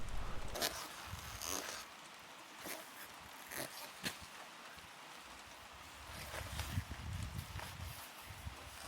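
Waterproof motorcycle gear rustles and zips up during a stop on a solo trail ride across Sweden and Norway on a Honda CRF300, with several quick close zipper pulls among soft fabric rustling outdoors.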